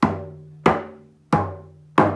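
Four evenly spaced hits on a lollipop hand drum, each a sharp attack followed by a resonant, ringing tone that decays before the next stroke.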